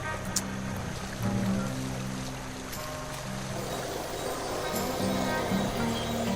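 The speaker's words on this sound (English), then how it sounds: "A swift, cold, pebbly, babbling brook." A swift, cold, pebbly babbling brook in the adventure game The Night of the Rabbit, with a steady rushing, trickling water bed that runs continuously at moderate volume alongside faint game music tones.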